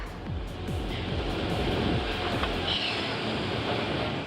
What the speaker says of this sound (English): the second catch wagon grabs the train in mid-run without slowing it down and hauls it up to repeat the ride in reverse